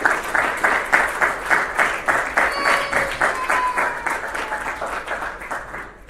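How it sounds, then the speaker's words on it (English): An audience at a doctors' T20 cricket league closing ceremony in Dubai applauds in a steady, dense wave of clapping that slowly fades over several seconds. "Can you have a big round of applause for all the team owners?"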